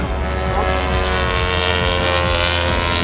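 RC F6F Hellcat model airplane making a low pass, a loud steady motor drone with shifting pitch, continuous over outdoor background with a voice nearby.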